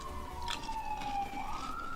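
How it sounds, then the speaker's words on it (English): An emergency siren passes outside during an indoor drawing session, its wailing tone sweeping up and down steadily across the whole moment over a low background hum. "Siren's going by, I'm so sorry."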